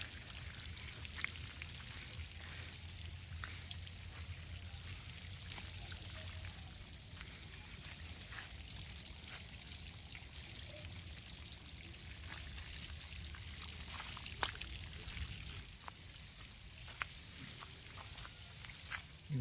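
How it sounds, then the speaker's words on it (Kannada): Irrigation water for a grape vineyard flows in a soft, steady trickle, faint and continuous throughout, with a low hum underneath and a few small clicks. "ದ್ರಾಕ್ಷಿಗೆ ನೀರು ಹಾಕತೈತ್ರಿ ಈಗ ಅದಕ್ಕಾಗಿ ನೀರು ಬಿಟ್ಟೈತೆ ನೋಡ್ರಿ"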